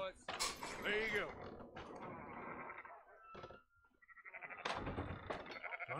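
Sheep bleat in the Red Dead Redemption 2 video game, several loud close calls in the first seconds and again near the end, mixed with game ambience and movement noise.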